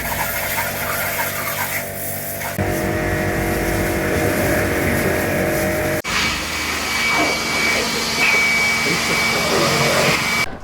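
A motorbike is washed at a roadside washing spot near a Dooars resort, the pressure-washer machine drones loudly and continuously, its whine shifting pitch in abrupt stages, with no voices.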